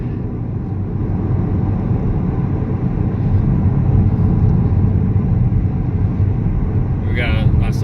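A 4-cylinder turbo Camaro running on E85 drives along, its engine a steady, loud, low rumble with road noise that barely changes throughout.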